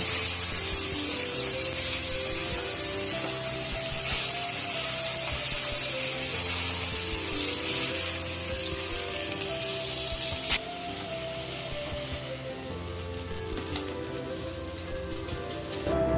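Prawns frying in hot oil for a prawn malai curry, a steady loud hiss and spatter continuing without a break and with no talking.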